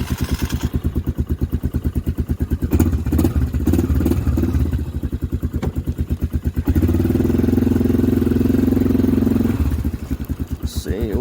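A Polaris 425 engine runs on full choke in snowy cold, chugging with a loud, rhythmic idle that swells and steadies midway before easing back toward a lumpy idle.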